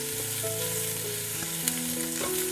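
Garlic sizzles steadily in hot oil as ginger and onion go into the pan for chicken tinola, a continuous close frying hiss with a few stirring clatters and a steady hum underneath.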